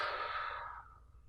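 A single breath during an abdominal exercise demonstration, a close, airy exhale that starts strong and fades over about a second, with no talking.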